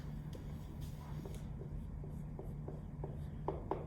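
Pen or marker writing out algebra working, steady soft scratching strokes with a few sharper taps near the end, close and fairly quiet with no talk.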